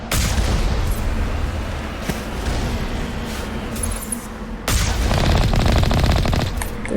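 Alliance heavy turrets pounding away in Mass Effect Legendary Edition, a loud, continuous barrage of heavy gunfire and booms that dips briefly near the middle and then surges back.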